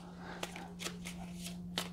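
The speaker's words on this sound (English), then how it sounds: "And we'll shuffle this deck up." Hands riffle an orange deck of cards at a game table, producing several quick, crisp shuffling bursts spaced irregularly over a steady background hum.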